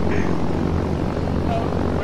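Aircraft engine at full throttle in the Arma 3 video game, a continuous loud propeller drone with a steady roar, with voices talking over it.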